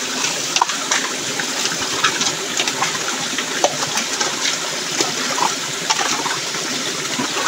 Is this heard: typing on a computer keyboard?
no